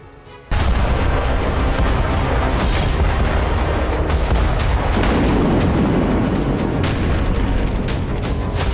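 Explosions and artillery fire from war news footage of fighting in Ukraine's Zaporizhzhia region. Loud, dense blasts and rumbling booms start suddenly and continue nearly without pause.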